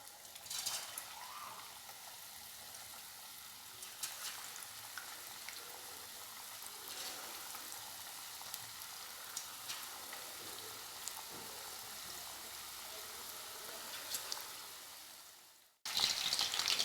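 Marinated chicken shashlik sticks deep fry in oil over medium heat, a steady, faint bubbling hiss continuing evenly before cutting out abruptly near the end.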